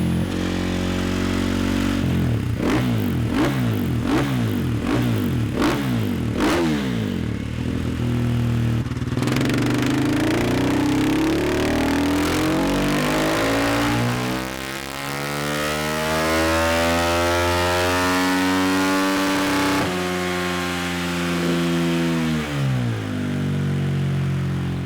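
Motorcycle engine fitted with a Vortex box revving hard on a dyno: a burst of sharp blips, then a long sustained climb through the gears to a screaming peak, dropping off near the end, loud and close.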